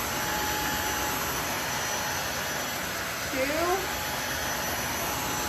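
A Tineco Floor One S3 cordless wet-dry vacuum runs in max mode, giving a steady loud whirring drone throughout, with a brief spoken word over it.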